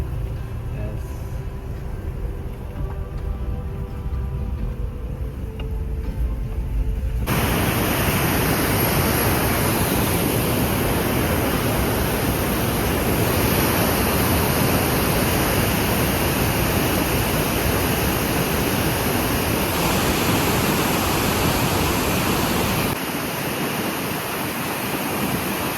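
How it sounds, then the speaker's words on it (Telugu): Large waterfall near Munnar, Kerala, roaring as a dense, loud, steady wash of broadband noise that swells in after a quieter opening and holds continuously, with small shifts in intensity. "మేము వెళ్ళిన వాటర్ ఫాల్స్ చాలా పెద్ద వాటర్ ఫాల్ యాక్చువల్గా. సో సౌండ్ మీరే వినండి."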